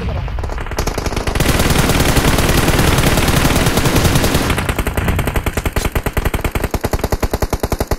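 Relentless automatic gunfire in a battle royale mobile game, a loud, dense stream of rapid shots that runs for several seconds and then breaks into distinct, evenly spaced bursts near the end.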